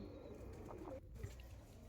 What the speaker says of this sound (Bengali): এবার আমি দেখাবো মঙ্গলাগিরি লাইনের লালসিরা।